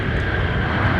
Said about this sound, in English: This is Sun Country's newest aircraft to the fleet. This is 737-900 in from Las Vegas.